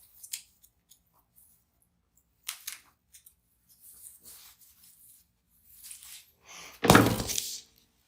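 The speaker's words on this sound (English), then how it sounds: "It's got a wire right in the middle of it, so my scissors are struggling with cutting it." Scissors cut at deco mesh with a wire running through its middle, followed by bolt cutters: a few sharp isolated clicks and snips, softer rustling crunches, then one loud, heavy snap near the end.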